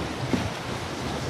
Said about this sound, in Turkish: Bak nasıl bu deniz çekiliyor